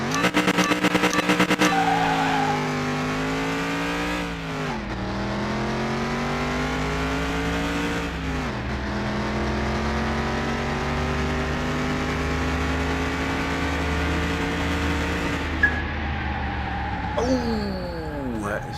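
Racing car engines in Car Mechanic Simulator 2021, including a standard Chevelle Malibu, rev steadily with rising and falling pitch and a brief skid near the end, loud and continuous, with speech underneath.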